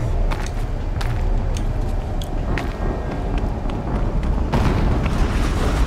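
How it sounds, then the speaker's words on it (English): An explosion rumbles in Horizon Zero Dawn, a sustained loud, dense roar with scattered sharp cracks of debris throughout, followed by a fresh burst near the end, with no speech over it. "An explosion."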